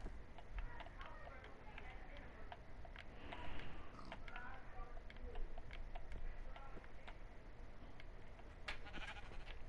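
Sheep bleat repeatedly in a Minecraft game, short game-sound calls mixed with footsteps and clicks, moderately quiet, with a person talking over them.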